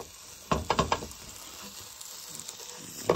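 Aubergines frying in olive oil in a sauté pan, a low steady sizzle broken by a few sharp clattering bursts near the start and one more at the end, close by with no talking.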